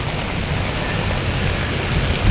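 Heavy rain pours down in a steady, dense roar that fills the whole stretch, with no pauses and no voices, only a slight surge in loudness right at the end.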